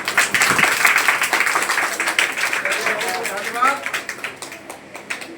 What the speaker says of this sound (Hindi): एक बार आप लोग अपने जोरदार ताली बजाइए अपने लिए